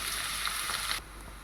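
Onions sautéing in oil in a pan give a steady close sizzle that drops away sharply partway through.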